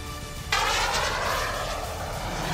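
A French-built Rafale fighter jet roars overhead, a broad, loud rushing engine noise that swells abruptly and then holds steady.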